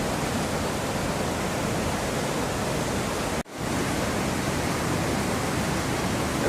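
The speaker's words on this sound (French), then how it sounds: "Et voilà, rivière d'Andorre, juste au centre-ville, vous voyez." A fast river rushing through the town centre of Andorra, a loud, continuous broadband roar of water with a brief cut partway through.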